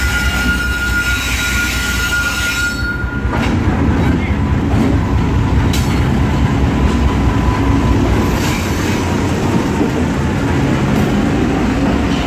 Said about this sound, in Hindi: तो मेरे यहाँ पहुँचने के कुछ ही देर बाद 14 डाउन अवाम एक्सप्रेस भी आ गई